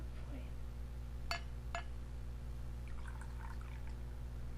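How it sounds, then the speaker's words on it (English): Red wine poured into a glass, two short bright clinks of glass followed by a faint, soft trickle of liquid over a low steady background hum, quiet and close. "let me pour this out"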